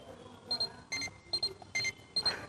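The alarm on a homemade automatic fish feeder rings in a quick run of short, bright electronic beeps, about six bursts close together and fairly loud, with no talking.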